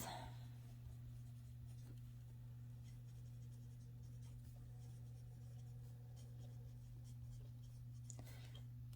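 A pen writes by hand on paper while working out a budget, making faint, soft scratching strokes over a steady low electrical hum in a quiet room.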